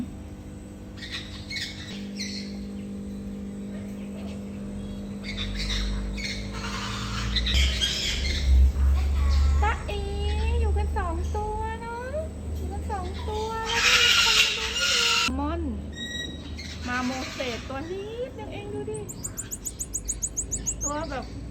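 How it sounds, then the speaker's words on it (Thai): A crested chicken at a small petting zoo gives a run of squawks and chirpy calls. The calls rise and fall among people talking nearby, with a brief rattling sound near the end. "แล้วก็มีไก่จุกด้วย ไก่จุกเหมือนนกกระทาเลยอ่ะ"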